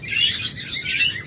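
A group of lovebirds chirps busily, with dense overlapping high tweets nearby and no talking.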